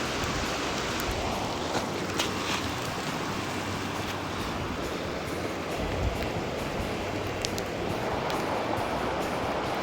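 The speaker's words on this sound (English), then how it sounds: "Yeah, it's cold and hailing." Hail falls steadily on a cold hillside in the rain, a dense, even patter that fills the whole stretch with no pauses and no voices.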